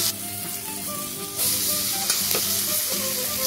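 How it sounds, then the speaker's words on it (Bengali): Tiger prawns sizzle in oil in a pan over a village kitchen fire, a steady close frying hiss with light clinks of a utensil stirring. "বাগদা চিংড়ি আর চিংড়ি মা ভেজে নিচ্ছে।"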